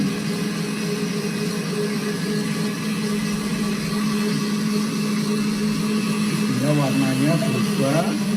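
A blender whirs steadily as it purees betel leaves with water, a continuous motor drone that holds for several seconds while a voice talks over it.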